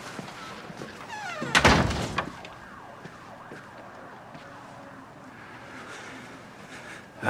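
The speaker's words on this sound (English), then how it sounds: "Door." A door shuts with one loud, sharp bang early on, followed by a quieter stretch of indoor background with faint wavering tones.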